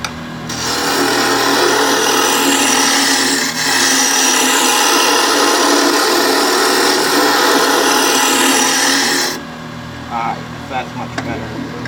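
A wood lathe spins an aspen bowl at 2200 RPM, a loud sustained whir and rushing tool noise for about nine seconds, then stopping abruptly into quiet with faint handling clicks.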